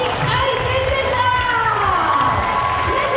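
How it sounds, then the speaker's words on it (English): Crowd at an IFSC climbing World Cup semi-final in Morioka, Iwate, cheering and shouting loudly and continuously, with high excited voices and rhythmic clapping or thumping underneath. "you can hear the crowd behind Iwate"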